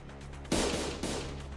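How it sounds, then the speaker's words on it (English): A loud explosion erupts in the Limbus Company video game, a sudden broadband blast that starts partway through the clip over a low droning background, then rumbles on with a second, smaller burst before fading. "A loud explosion left Don Quixote dismembered where she stood."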